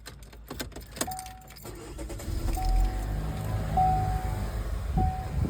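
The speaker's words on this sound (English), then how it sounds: "So what you want to do is crank up this vehicle here with the good battery." A car with a good battery, hooked up with jumper cables to charge a dead battery, clicks and jingles with keys before the engine cranks and catches, then settles into a steady, close idle.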